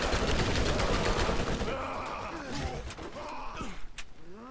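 Dense, loud gunfire hits a player in the Borderlands shooter game, a rapid burst that fades after a couple of seconds into scattered impacts and pained grunts, with a few later sharp shots.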